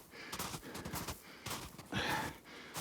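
Heavy, uneven panting breaths from a man tiring while cutting and dragging logs in a cold Arctic Lapland forest, close and fairly quiet, in irregular bursts.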